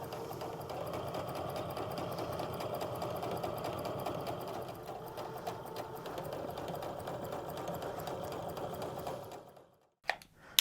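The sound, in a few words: sewing machine stitching quilt block along the line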